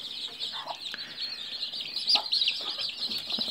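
A broody hen clucks softly while chicks peep continuously in a high chorus, close and steady throughout.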